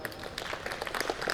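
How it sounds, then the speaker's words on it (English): Audience at a Republic Day function clapping, a quiet, fairly distant patter of scattered hand claps that continues steadily for a moment, heard alone. "You can give a good support or clap also."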